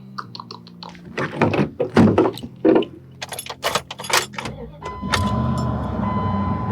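Keys jangle and a truck door thunks shut with several knocks and rustles, then the engine turns over and settles into a steady idle, all close by with no talking.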